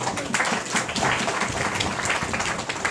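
A church congregation clapping in applause, a dense steady patter of many hands lasting a few seconds without any speech.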